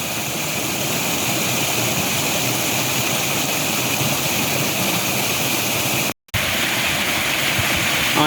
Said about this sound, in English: I am now back at this waterfall, the second waterfall from the trailhead.